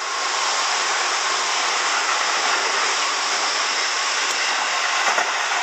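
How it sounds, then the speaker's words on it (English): A special commemorative Tobu train rolls past on a Tokyo line in Itabashi near the Arakawa, giving a steady, broad rushing roar that holds at an even loud level throughout, with no voices over it. "Look at that train."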